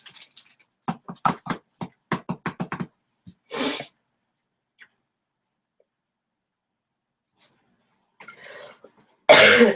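A quick run of light clicks and taps, followed by a single cough, then quiet, and a second, louder cough at the end.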